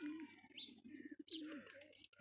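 A male pigeon brought from Pakistan, named Udan Tashtari, gives soft rolling coos close by, two short phrases in quiet surroundings.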